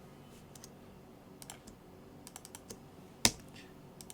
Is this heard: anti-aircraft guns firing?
no